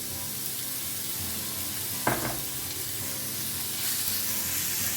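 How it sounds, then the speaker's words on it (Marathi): Chopped onions frying with salt in a pan for Goan prawn balchao, a steady close sizzle with a brief stir or scrape at about two seconds. "तर पळयात कांदो हांगा बरो फ्राय जाल्लो आसा"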